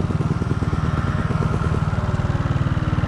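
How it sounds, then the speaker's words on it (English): Honda 4RT four-stroke trials motorcycle engine running steadily up close, a loud, even low-pitched thumping pulse with mechanical clatter throughout, no voices. "First ride out on the new bike."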